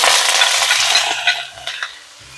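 Ground turkey drops into a hot wok for an Italian-sausage-seasoned egg roll bowl, giving a loud, steady sizzle broken by a few scraping stirs near the end.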